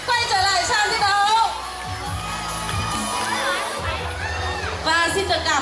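An audience at a school quiz game show event cheers, whoops and shouts in a loud, lively crowd dominated by young voices, with bursts of excitement rising and falling throughout.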